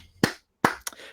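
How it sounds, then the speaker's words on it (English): Two or three sharp hand claps, spaced apart with brief silence between them, close and clear with no talking, the clapping of someone leaning back in a chair. "Clap a couple of times and say,"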